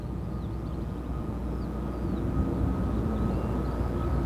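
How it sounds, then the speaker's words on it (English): An EasyJet Airbus A320 takes off at London Gatwick Airport, a steady low jet roar that swells slightly midway and holds at a distance, with faint bird chirps above it. "Another EasyJet 320 heading off."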